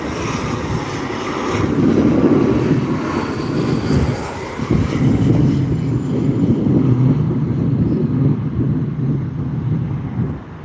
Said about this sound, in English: we have Alaska SkyWest Embraer 175 coming from San Francisco